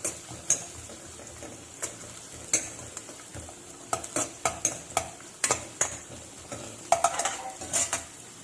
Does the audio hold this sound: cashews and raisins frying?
yes